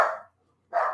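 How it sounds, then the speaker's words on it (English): Small dogs bark nearby in a loud burst, fall silent for a moment, then start up again. "Thank you, barking doggies."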